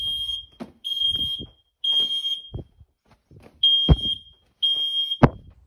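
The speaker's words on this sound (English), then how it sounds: "my fire alarm isn't exactly happy with my cooking" A smoke alarm chirps in five sharp, high-pitched beeps, each about half a second long, with a longer pause in the middle.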